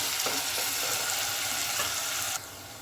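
An onion sautéing in a pan for a Bengali-style chicken potato curry gives a steady, loud hiss of frying that drops abruptly quieter near the end.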